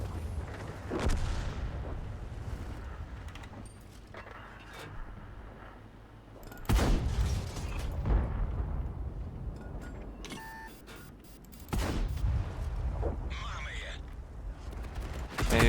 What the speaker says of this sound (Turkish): A'da topçu yedik.